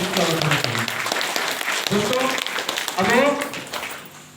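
Audience clapping at a hotel hall program in Ambikapur, a strong continuous patter of hands with a presenter's voice rising over it in short bursts.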